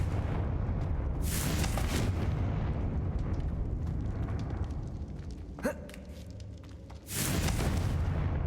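The Confringo fire spell from Hogwarts Legacy on Xbox Series S sets off bursts of explosive noise, one early and one near the end, with a sharp whooshing cast between them over a steady background.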